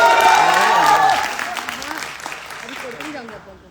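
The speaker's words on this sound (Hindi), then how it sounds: "एवं ताली बजा के आशीर्वाद देते हैं।" An audience at a Bhojpuri song release event claps and cheers, loud at first, then thinning out as a voice speaks over the fading applause.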